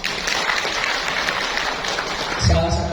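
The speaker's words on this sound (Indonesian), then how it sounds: "tepuk tangan dong" An audience at a parenting seminar for SD Muda elementary school claps steadily, a dense continuous patter of many hands, with a voice starting to speak just at the end.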